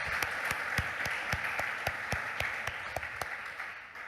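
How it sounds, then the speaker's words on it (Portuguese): A church congregation claps in praise during a service: sharp, evenly spaced hand claps keep a steady rhythmic beat over a soft background, moderately close and without talk. "Vamos aplaudir uma vez mais o nome do Senhor"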